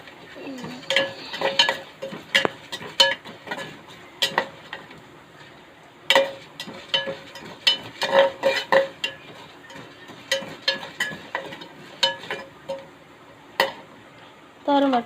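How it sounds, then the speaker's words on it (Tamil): Toor dal dry-roasting in a pan, stirred with frequent clinks and scrapes of a metal spoon against the pan at an uneven rhythm, close and fairly loud, with no speech. "நம்ம எடுத்து வச்சுருக்க துவரம் பருப்பு நல்லா செவக்க வறுத்துறோம்"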